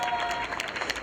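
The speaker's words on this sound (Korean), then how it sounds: "다시 한번 큰 박수 부탁합니다." A crowd gives a short burst of applause at a Labour Party rally on expanding public healthcare, with dense clapping and a voice briefly over it.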